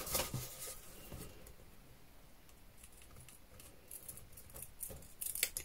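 Scissors cutting through scrapbooking paper while making a small suitcase-style box, a quiet run of soft snips and paper rustles, close by with no talking.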